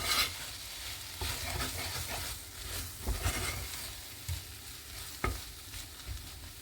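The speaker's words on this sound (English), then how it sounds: "Let's stir it once more." A spatula stirs a hot, spicy okra curry in a pan, giving soft scraping strokes and a gentle sizzle with a few sharper clicks, quiet and close.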